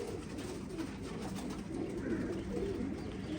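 A pair of Teddy pigeons gives a short run of soft, rolling coos, faint and close, with no voices over them.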